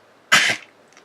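A single short, harsh hacking cough from a dog, loud and close, followed by quiet.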